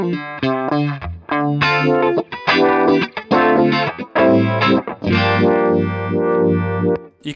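Electric guitar played through a BOSS Nextone amp with gain and vibe pedals, giving a driven, warbling tone as choppy chords and single notes ring out loud and close, with no talking.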